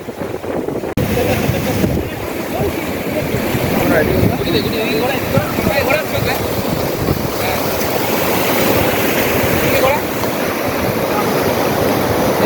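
Sea waves and strong wind at Gangasagar beach during rising rain, a dense, roaring wash of surf with heavy gusts buffeting the microphone, loud and continuous for the whole stretch, with voices faintly mixed in.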